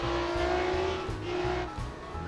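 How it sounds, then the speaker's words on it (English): A 1962 F1 racing car engine in a video game roars continuously at high revs, its pitch dipping and climbing with gear shifts, loud and close with no one speaking. "it sounds like a solid, cool car"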